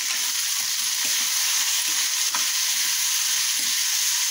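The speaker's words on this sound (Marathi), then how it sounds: "ह्या मिरच्या चांगल्या अशा तेलामध्ये भाजून घ्यायच्या" Green chillies fry in oil in a pan, producing a dense, continuous close-up sizzle with faint stirring scrapes underneath, and no one speaks.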